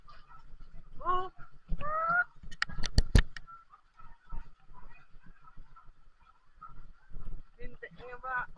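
Several ducks quack in short nasal bursts, close by, with sharp honks in the middle and quieter background noise between calls.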